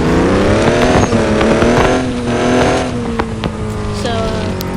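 A Duramax 2500 diesel pickup truck engine runs close by and revs, its loud, steady rumble rising and falling in pitch over several seconds.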